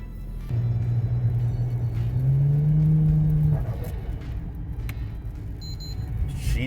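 A Toyota Crown JZS171 with its factory 1JZ VVTi engine accelerates, its loud engine note rising steadily in pitch for a few seconds before easing back into a lower, rougher rumble.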